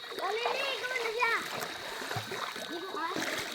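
Child splashing in cold, clear water while bathing in a river, with several irregular splashes close by and excited children's voices talking over them throughout.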